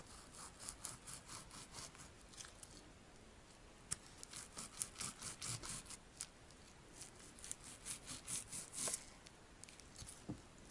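A soft sponge soaked in months-old clear slime is cut with scissors, giving close, quiet wet snipping and squelching crunches in irregular bursts, with no talk.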